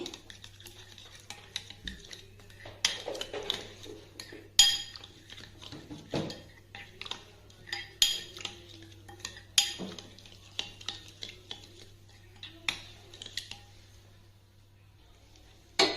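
A spoon stirs salt and masala together in a metal bowl for a street-style paneer kathi roll, giving repeated close clinks and scrapes against the metal at an uneven pace over a low background hum.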